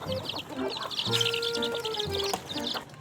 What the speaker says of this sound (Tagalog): dating na ang aming inahin